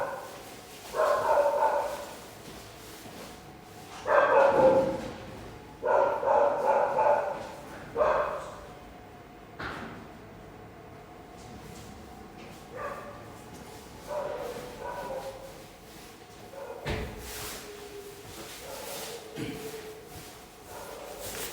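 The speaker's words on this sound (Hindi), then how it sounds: "यार ये बाहर कुत्ते भौंक रहे हैं" Several dogs bark outside in repeated clusters, loud at first and then more scattered and softer, some yips mixed in, heard from indoors against a quiet room background.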